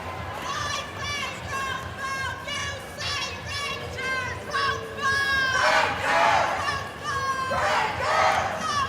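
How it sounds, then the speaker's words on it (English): A spectator at a robotics competition cheers and yells loudly in repeated bursts over a noisy crowd backdrop, with the shouting swelling toward the end. "A one-person cheering section just spontaneously erupted behind us."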